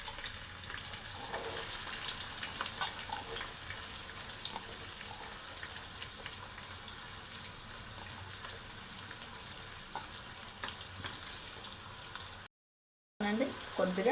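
Chopped onions hit hot oil for a chicken curry and fry with a continuous crackling sizzle, moderately loud and close. Someone speaks over it, and the sound cuts out briefly near the end.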